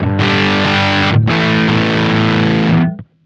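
Electric guitar played through an MXR Mini Fuzz Face pedal switched on, giving a loud, thick fuzz-distorted chord that sustains for nearly three seconds with a brief break before cutting off.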